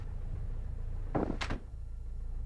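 Small airplane cabin door closed and latched before departure, two quick close clunks over a steady low cabin hum.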